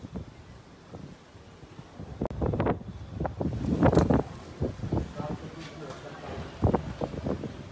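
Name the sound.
strong wind blowing in Ahmedabad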